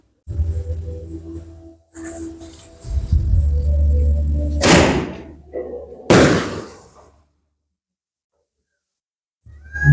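A Diwali firework rocket goes off outdoors: after rustling handling, two sharp loud bursts each trail off in a hissing whoosh, followed by near silence.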